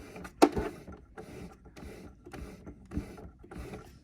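Irregular mechanical clicking and ratcheting from a sewing machine handwheel being turned, with a sharp louder click near the start, then steady repeated clatter.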